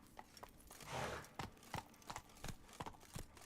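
Hooves of Roach, a horse in The Witcher 3 game, clip-clopping at a steady walking rhythm: a string of crisp, evenly spaced hoof strikes, fairly faint and with no talk over them.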